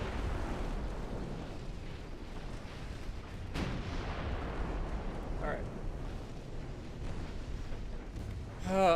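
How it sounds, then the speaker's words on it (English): Naval guns fire at a battleship in Ultimate Admiral, with a sharp distant boom cutting through a low rumbling battle ambience, followed later by fainter blasts. "Again, they're shooting at the battleship."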